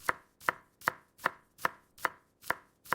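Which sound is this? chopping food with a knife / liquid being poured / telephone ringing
chopping food with a knife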